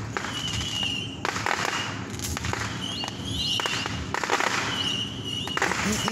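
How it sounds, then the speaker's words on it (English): Fireworks on the Fourth of July go off in a dense, continuous barrage of crackling bursts and booms, with whistling rockets rising at times, loud and sustained throughout with no talk. "I just got here and they just sent the fireworks, bro."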